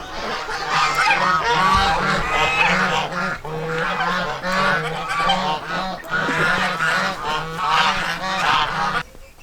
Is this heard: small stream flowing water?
no